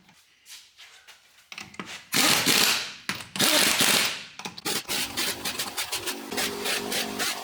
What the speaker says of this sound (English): So I'm going to go ahead and get all these popped on here. We'll get them tightened up.